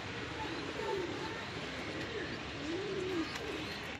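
Jacobin pigeons, a breeder pair with a jumbo-size hen, coo in a soft, steady rising-and-falling rhythm close by, with no one speaking over them.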